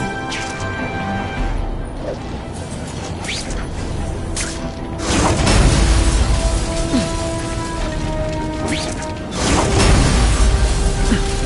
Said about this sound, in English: Friendly neighborhood fireworks.